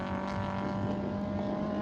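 Ford Escort improved-production race cars with Cosworth engines on 13-inch wheels and Yokohama semi-slicks howl at a steady high pitch, a sustained racing-engine note at moderate distance.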